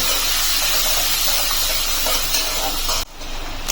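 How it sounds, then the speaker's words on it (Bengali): Chopped onion frying in hot oil after garlic, for a bitter gourd dish: a steady, loud broadband sizzle and hiss that runs unbroken, then drops abruptly and resumes somewhat quieter near the end. "পেঁয়াজটাকে আমি একটু ভেজে নেব"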